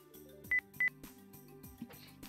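A stream timer goes off with two short, bright electronic beeps close together. Soft tonal music runs underneath, and nobody speaks.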